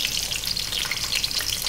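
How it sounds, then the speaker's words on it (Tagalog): Onions sizzling in a hot pan for chicken adobo, a steady, close crackling hiss that fills the short moment without pause and with no voices. "Ayan, lagay na natin yung ating sibuyas."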